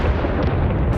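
A dense British artillery barrage from the 1917 offensive of the First World War, with heavy booming shell fire merging into a continuous, loud low rumble over one second.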